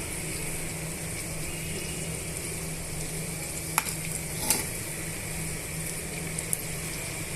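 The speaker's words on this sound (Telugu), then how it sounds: "సేమియా అంతా కూడా యాడ్ చేసుకొని ఇలా మిక్స్ చేసేసుకుందాము" Boiled semiya vermicelli is stirred into vegetables frying in a pan for an egg dish, making a steady close sizzle with a few faint clicks of the utensil against the pan.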